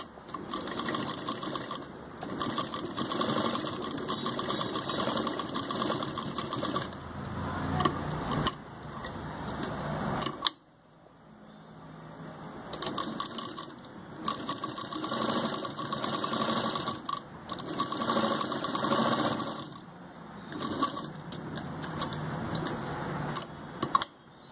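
Sewing machine stitching canvas, a square piece and dress fabric together for an umbrella kameez, running in long steady bursts with a brief pause midway, close and loud with no talk.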